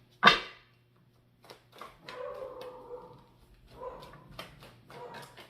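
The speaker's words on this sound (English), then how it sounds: "Maybe my dog barking is signifying like, don't go deeper" A dog gives a sharp yip followed by a string of whimpering, whining vocalizations at moderate distance in an otherwise quiet room.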